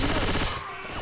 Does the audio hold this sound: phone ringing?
no